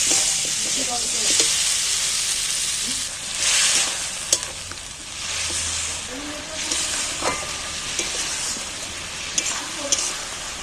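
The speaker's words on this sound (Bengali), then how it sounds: "এইবার মশলার মধ্যে ভালো করে নেড়ে চেড়ে নিতে" Green banana pieces stirred into sizzling fish-curry masala in a pan: a steady frying hiss with scraping strokes and occasional clinks, close and fairly quiet, alone.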